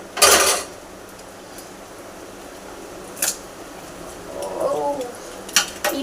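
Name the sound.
egg being cracked and poured in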